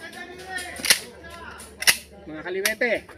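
A single sharp gunshot cracks out during marksmanship firing practice on a range, followed by a second report about a second later, with voices talking in the background.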